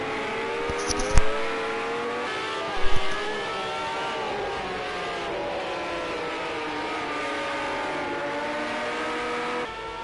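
Race car engines in Project Cars 2 whine steadily at high revs, the pitch sliding up and down through gear changes, with a couple of brief thumps early on.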